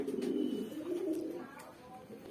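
A male desi Giribaz pigeon coos softly at close range in a few low, rolling phrases, with light background noise.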